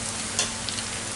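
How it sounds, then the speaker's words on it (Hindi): Sowa aalu bhaji with dill leaves being stirred in a hot pan, a steady close sizzle with a faint scrape of the spoon. "इसे अच्छे से चलाऊंगी।"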